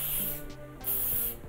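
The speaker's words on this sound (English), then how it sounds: "you're gonna take a little bit of hairspray" Hairspray sprays in two short, close hissing bursts from an aerosol can.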